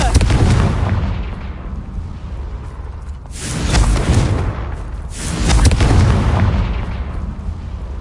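Confringo fire spell explosions in Hogwarts Legacy, with a loud rumbling blast followed by two more deep booms that swell and roll off in sequence.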